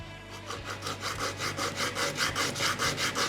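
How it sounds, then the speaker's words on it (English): Rhythmic back-and-forth sanding strokes on cast urethane resin skulls with roughly 60-grit sandpaper, about a dozen in quick succession, close and fairly loud, with a gritty rasp on each pass. "I'll just sand the backs of these off so they're flush"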